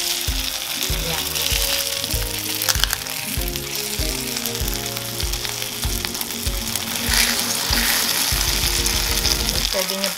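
Egg-coated eggplant for tortang talong frying in hot oil, a constant loud sizzle with rhythmic scraping and clacking from a utensil in the pan.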